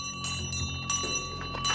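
A bell rings in a few quick, bright strikes with lingering tones, heard fairly close over a low background.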